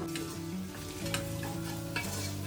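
Chicken biryani onions sautéing in a pan with stirring, a steady close sizzle broken by scraping spoon strokes, over a humming low background, with no talk.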